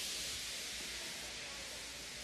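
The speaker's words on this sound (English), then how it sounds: "He just let off steam feebly." A steam locomotive lets off a soft, steady hiss of steam, weak and continuous, with no other sounds over it.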